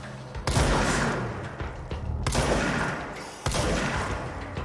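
Blasts from a revolver-style shotgun in the video game Control, three loud, booming shots roughly a second or two apart, each with a long rumbling tail that fills the gaps.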